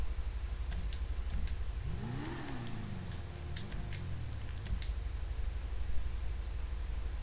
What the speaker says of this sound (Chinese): 排气管用赛车型的哦